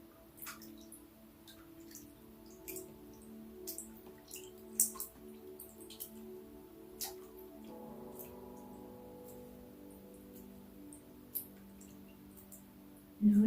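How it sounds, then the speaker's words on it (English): Water drops falling from raised hands back into a bucket or bathtub of water, a scattered series of small, close plinks and drips over a faint steady hum. "let the droplets of water fall back onto the surface of the water again in the bucket"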